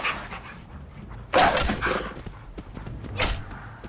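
A dog in the video game Fallout 4 gives a couple of sharp barks, one near the middle and another toward the end, amid quieter game sounds and footsteps.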